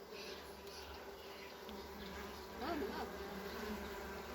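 A dense, continuous buzz of a full honeybee colony nesting inside a house wall, close by, steady and unbroken, with a slight swell partway through.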